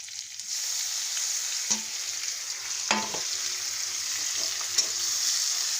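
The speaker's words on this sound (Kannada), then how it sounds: "ಸಣ್ಣ ಫ್ಲೇಮ್ನ ಇಟ್ಕೊಂಡು ಬದ್ನೆಕಾಯಿ ಎಲ್ಲ ಈ ಥರ ಎಣ್ಣೆ ಒಳಗೆ ಸ್ವಲ್ಪ ಉಳ್ಳಾಡ್ಸ್ಕೊಳ್ಳೋಣ್ರಿ" Brinjal pieces fry in oil over a low flame while being stirred, giving a steady close sizzle with a few sharp spatula clinks against the pan and no talking.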